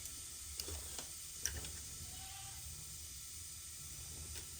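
Cumin and mustard seeds sizzle in hot oil in a home kitchen, making a soft, steady hiss with faint crackles and a few small pops. No one speaks.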